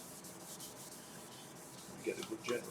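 Cellulose sanding sealer, thinned half and half with thinners, is rubbed onto a spinning bowl on a wood lathe, giving a soft, faint continuous rubbing hiss with a couple of brief, slightly louder scuffs near the end.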